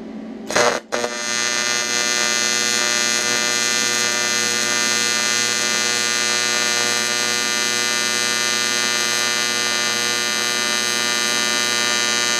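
An AHP Alphatig 200x TIG welder runs on aluminum at 120 Hz. It gives a steady, loud electric buzz with a strong hum, starting after a brief crackle and holding unbroken for over ten seconds.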